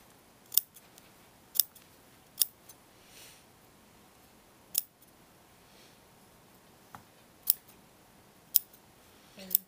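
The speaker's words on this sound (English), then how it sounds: "I'm clipping the garment, not the collar." Scissors snip into garment fabric while an under collar is attached to a jacket, giving a handful of sharp, separate clips spaced irregularly in a quiet room.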